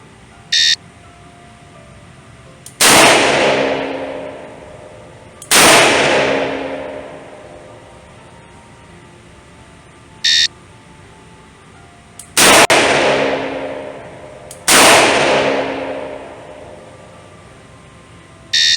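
A circa-1975 Colt Python revolver fires single shots at a shooting range, each a loud sharp crack with a decaying tail, with four shots in uneven pairs and brief beeps between them.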